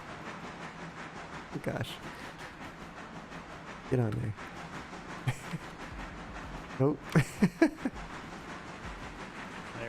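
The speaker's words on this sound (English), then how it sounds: "Sounds like we got a train coming back." A log train passes with a steady low rumble and rolling rail clatter in Railroader, a railroad game, with bursts of louder wheel clanks, while a man exclaims briefly over it.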